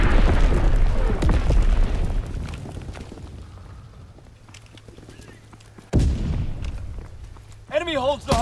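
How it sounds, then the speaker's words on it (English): Mortar explosions from a multiplayer video game match: several heavy booms with low rumbling tails, one loud blast near the start and another sharp hit about two-thirds through, with game voice announcements cutting in around them. "Mortar shot out."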